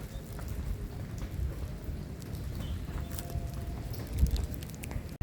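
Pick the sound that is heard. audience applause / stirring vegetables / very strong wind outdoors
very strong wind outdoors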